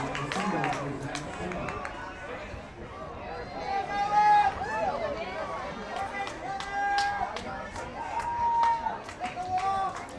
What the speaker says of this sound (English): you hear the hometown crowd appreciating the efforts of the Post 74 Bandits here